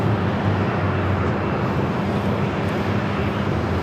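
A jet airliner arrives on runway 8 at Phoenix Sky Harbor, a loud, steady, broadband engine roar that stays constant throughout, with no talking.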